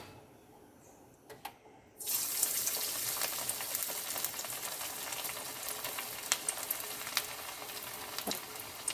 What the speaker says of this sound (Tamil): இப்போ பாருங்க, இந்த உள்ளி வடை வந்து வெந்துட்டு இருக்கு